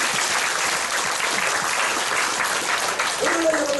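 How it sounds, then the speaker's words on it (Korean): Church audience at a healing revival service in Daegu applauding, a steady dense wash of clapping throughout, with a brief tonal sound near the end. "박수를 주세요."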